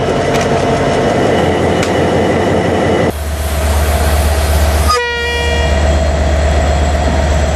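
Train running on the renovated Anuradhapura–Omantha railway line, a loud steady rumble of wheels on track that swells into a heavy close pass, then a sustained horn blast sounding near the end.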